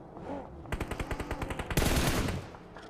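In a PUBG Mobile esports league match, team 9Z lobs grenades toward OG as they cross a road: a rapid, even-paced burst of automatic gunfire is followed by a heavier, broad blast that rings out before fading.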